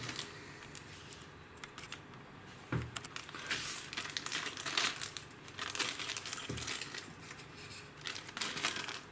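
A small package of resistors and red and green diodes is torn open, giving close, dry crinkling and rustling in irregular bursts with no talking.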